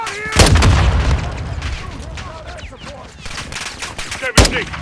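Gunfire in Call of Duty Modern Warfare 2, with heavy bursts and booming shots opening and closing a stretch of rattling battle noise, loud and close, and shouted voices mixed into the fighting.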